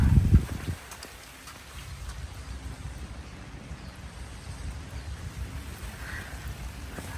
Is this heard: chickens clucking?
no